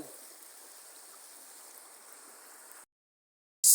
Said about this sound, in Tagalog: Ayan yung tubig dito. Baha.